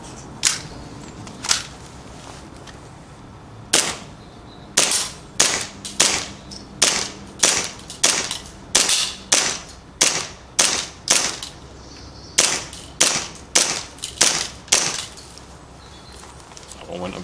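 BB gun firing BioBalls brand BBs on a cold day outdoors: about twenty sharp, close cracks in a loose, irregular series, spaced roughly half a second to a second apart, with quiet background between shots.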